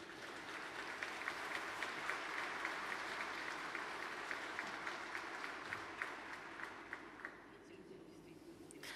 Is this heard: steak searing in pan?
no